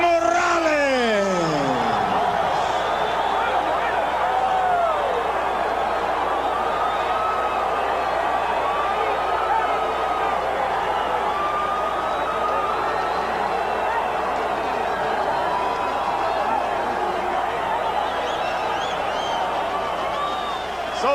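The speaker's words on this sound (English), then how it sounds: "So the crowd reacts to the split decision in favor of Erik Morales" Arena crowd at a boxing match between Erik Morales and Marco Antonio Barrera, reacting to a split decision: a loud, steady roar of many voices with whoops and shouts across the whole stretch.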